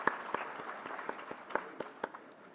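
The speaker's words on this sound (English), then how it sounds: "I think that does deserve a round of applause" A fairly faint, thin round of applause at a formal 75th-anniversary celebration, with individual claps standing out sparsely for a couple of seconds.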